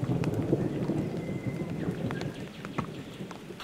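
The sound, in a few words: winter storm with rain and thunder in the Dandenong Ranges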